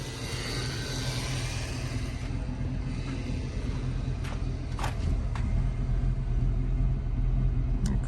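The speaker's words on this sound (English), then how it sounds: "It's idling all by itself now." A Saleen car's engine idles steadily at about 500 RPM, a low continuous rumble with a few faint clicks on top, no voices.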